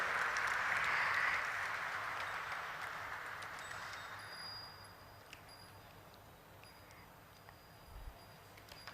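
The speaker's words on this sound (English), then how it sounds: "Can we have a huge round of applause for him, everybody?" Applause at a stock exchange listing ceremony for Popular Vehicles and Services Limited, a fairly loud burst of clapping over the first second or so that fades steadily into a quieter room tone with a few faint clicks.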